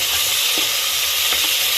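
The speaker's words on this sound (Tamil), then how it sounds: "தக்காளி நல்லா வணங்கட்டும்." Chopped tomatoes sautéing with ginger-garlic paste in a pan for a peas and mint rice dish, giving a steady loud sizzle with faint stirring scrapes throughout.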